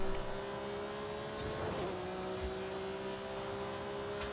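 A car engine droning steadily while driving in a video game, a fairly faint continuous hum with a brief swell midway and no talking.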